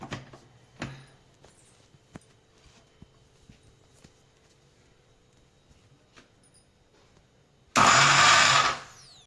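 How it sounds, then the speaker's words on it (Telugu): A mixer grinder grinding homemade pitambari powder roars to life near the end, loud and harsh for about a second and a half before cutting off, following quiet handling clicks and taps. "ఈ విధంగా మిక్సీకి వేసుకునేసి"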